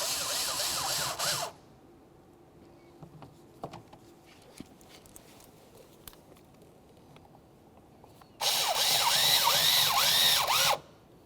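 A power driver with a 5.5mm socket runs in the lower mounting bolts of a 2001-2005 Ford Explorer Sport Trac window regulator, giving two loud, steady whirring bursts, one brief at the start and one longer near the end, with quiet clicks between.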